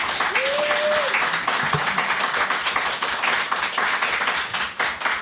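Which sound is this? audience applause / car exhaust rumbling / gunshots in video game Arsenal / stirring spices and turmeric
audience applause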